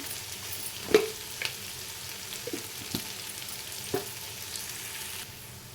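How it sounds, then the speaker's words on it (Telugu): Onions fry in a pan for an egg dum biryani, giving a soft, steady sizzle with occasional clicks of a spoon against the pan. "ఆనియన్ ఫ్రై అయ్యాయి చూడండి"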